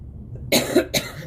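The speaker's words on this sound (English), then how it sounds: "So sorry, I'm coughing." Two quick, rough coughs in close succession, close and fairly loud, after a moment of near silence.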